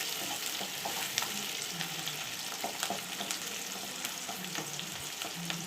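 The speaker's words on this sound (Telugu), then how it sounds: "ఆ మిశ్రమాన్ని అంతా మధ్యలోకి తీసుకొచ్చి అలాగే కొంచెంసేపు వేగాలన్నమాట" A spice mixture fries in a pan, a continuous sizzle broken by scattered scraping taps as it is stirred and pushed together, close and without talk.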